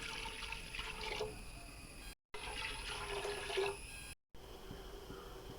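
Water, about 1.5 litres, pours into a copper pot set on the stove for Ambalapuzha palpayasam, a steady splashing rush in two close takes with brief gaps, no voices.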